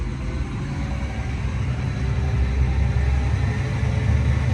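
A John Deere 2630 tractor's diesel engine rumbles loud and close, its low steady drone rising slightly in intensity as throttle is eased on, with no voices over it.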